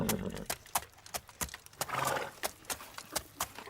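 A horse walks as it is led by the bridle, steady clip-clop hoofbeats close by with a soft snort or whinny in the middle.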